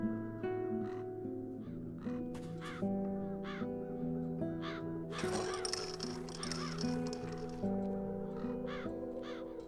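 Crows in The Dark Eye: Chains of Satinav give repeated harsh caws at a steady pace, with a burst of overlapping calls partway through, heard over a sustained musical background.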